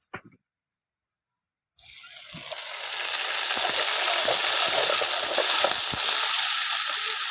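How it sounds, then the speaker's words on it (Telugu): Onions frying in a pan until reddish-brown, a steady loud sizzle that starts suddenly after a brief tap and near silence, then builds and holds with crackling pops, close and alone. "ఎర్రగడ్డలు ఇలాగా ఎర్రంగా వేయించుకొని పేస్ట్ చేసుకోవాలి."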